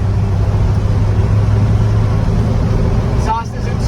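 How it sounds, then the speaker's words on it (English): A 1954 Ford F100 truck drives along with a steady, continuous engine and exhaust drone, moderately loud and close, dipping slightly near the end. "Exhaust isn't too loud, but it doesn't hesitate. It's got good power."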